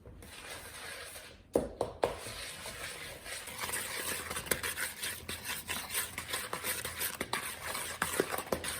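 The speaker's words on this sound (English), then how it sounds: "And then we need to mix that in as well" Half a teaspoon of vanilla extract being stirred into chocolate chip cookie dough in a bowl, with a few sharp knocks at the start followed by a run of close, rhythmic scraping strokes and no talk.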